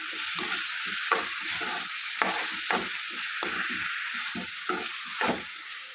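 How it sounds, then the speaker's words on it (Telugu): Chicken frying in a tempering is stirred in a pan, a steady loud sizzle broken by repeated scraping strokes of the spoon at an even rhythm, close up and without talk. "బాగా కలుపుకోవాలి. చికెన్ వేసుకొని"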